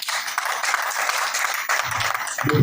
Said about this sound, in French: Je voudrais qu'on applaudisse encore pour John.